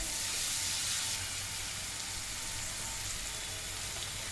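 Garlic paste and turmeric sizzle in oil in a pan for a potato curry, a dense, steady hiss like rain that stays loud and close throughout, with no voices.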